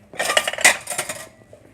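Hard plastic and metal blender parts clatter as they are handled on a kitchen surface, a busy run of close knocks and clinks with a sharper clank partway through, then settling to quiet.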